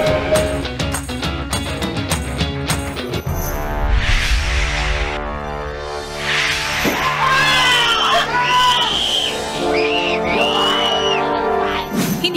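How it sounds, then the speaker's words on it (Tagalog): Inside a horror house in Parañaque, people shriek and yell loudly at the scares, rising to long, piercing high screams over a busy noisy background with some talk mixed in. "Hindi ka mauubusan ng sigaw sa mga panakot sa horror house na ito sa Parañaque."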